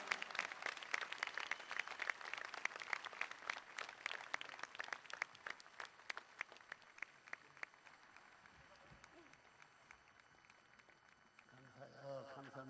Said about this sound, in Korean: Please express your appreciation through warm applause.